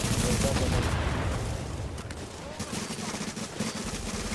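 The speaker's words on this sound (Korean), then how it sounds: "내가 쏘고 있어. 나 쏘고 있어." Dense, continuous gunfire from SMG-type weapons in a shooter game, a loud rapid crackle of overlapping shots filling the whole stretch.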